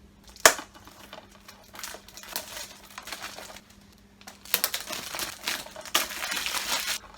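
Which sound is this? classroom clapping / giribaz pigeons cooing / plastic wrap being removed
plastic wrap being removed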